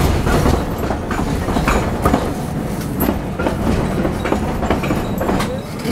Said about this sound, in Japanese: 伊予鉄の市内電車で JR の駅に向かいます